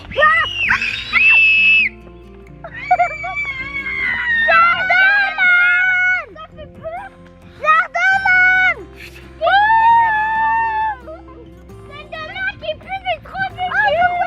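Children scream loudly outdoors in a forest in repeated bursts, shrill overlapping voices rising and falling with brief pauses, sustained over the whole stretch.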